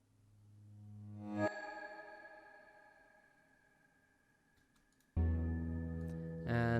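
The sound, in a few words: reverse effects, col legno cello and violin, beep synth, mallet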